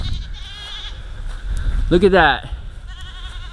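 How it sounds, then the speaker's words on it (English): Kiko goats bleat nearby, one loud wavering bleat standing out among fainter calls, while someone talks over them outdoors. "Kiko goats, they know how to work."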